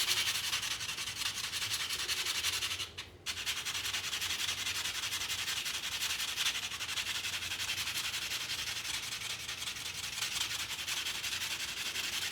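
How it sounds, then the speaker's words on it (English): Sandpaper rubs steadily against a 1962 Franklin wide band, a continuous close scratchy hiss that pauses only once, briefly, and has no voices over it. "let's go ahead and hit it with the sandpaper again"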